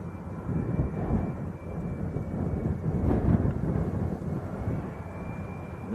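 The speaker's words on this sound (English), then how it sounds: "once this one's gone past, and just listen for the vortex" Low rumbling roar with gusty, swirling turbulence in the wake of a Jet2 Boeing 737-300 that has just passed over Leeds Bradford Airport, steady and fairly loud throughout, with a faint whining tone on top and no voices.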